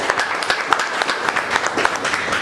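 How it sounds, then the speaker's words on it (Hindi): Audience applause at a leaders' training session, steady dense clapping from a crowd indoors filling the whole short stretch at an even level. "हमारे अब तक जो भी प्रवक्ता रहे उनके लिए जोरदार तालियां"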